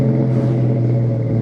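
1999 Ford SVT Cobra engine revving on a downshift, a loud, steady low drone with a brief rise in pitch, heard from inside the car.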